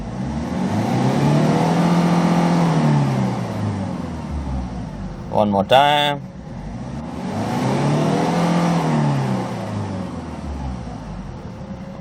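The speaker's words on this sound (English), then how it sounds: "Let's try to accelerate and listen to the engine sound." Engine of a Hyundai Porter tow truck revs up twice, rising and falling in long sweeps with a brief clattering burst between; someone speaks briefly over the engine noise.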